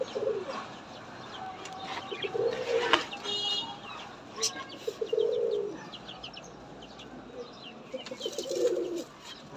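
Several pigeons give low, rolling coos inside a bird house shared with chickens, the calls coming in separate bursts close by, with faint chirps and a brief rustle of movement between them.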